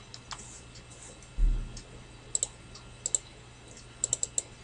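Quiet, sparse clicks of computer keyboard keys, typed out in short irregular bursts of a few strokes while making rhinestone patterns in Silhouette Studio, with one soft thump early on and no talking.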